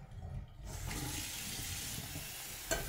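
Fresh water runs from a tap for cats, a steady rushing stream that starts abruptly and continues evenly at close range, with no talking.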